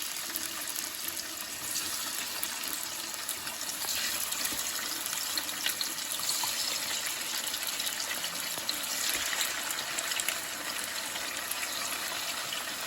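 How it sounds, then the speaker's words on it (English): Chicken pieces sauté in olive oil in a large frying pan, giving off a continuous, even hiss of sizzling fat. It holds steady at a moderate level throughout, with no voices. "we're gonna put some olive oil in here, and we're gonna fry up our chicken."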